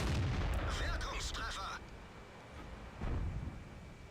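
Tank cannons fire in a video game replay of E-25 tank destroyers. A loud, booming shot rolls on for over a second and fades into a quieter rumble, then a second, lighter blast follows under a voice talking.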